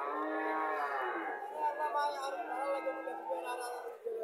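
A local cow moos in a long, drawn-out call that runs the whole stretch, heard close and loud at a Cumilla village cattle market.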